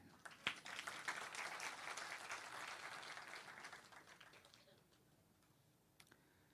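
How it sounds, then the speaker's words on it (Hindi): Faint, thin applause from a conference audience at a national minority gathering in Delhi, a soft patter of scattered claps running for several seconds before fading into near quiet. "बहुत हल्की तालियां बजी हैं।"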